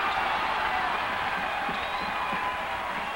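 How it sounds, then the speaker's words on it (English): Basketball crowd at the 1997 Big South Championship, Liberty University vs UNCG, cheering and roaring steadily throughout, a loud continuous wash of voices with scattered whoops. "And now the crowd's into it, Dave. Listen."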